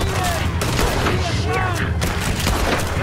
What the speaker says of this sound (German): Ja, ich schieß doch noch.